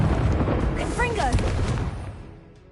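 A Confringo blasting curse explosion in the Hogwarts Legacy video game, a loud booming rumble with a crackling magical whoosh partway through that fades out toward the end.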